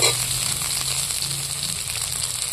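Capsicum and other vegetables frying in a pan, a steady close sizzle and crackle running throughout with a faint low hum beneath, no voices.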